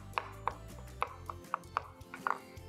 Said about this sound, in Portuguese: Vamos picar bem picadinho assim aqui